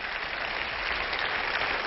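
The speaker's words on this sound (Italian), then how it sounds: "Fategli un applauso" An audience breaks into applause, a continuous wash of many hands clapping, fairly soft and muffled, heard alone with no talk over it.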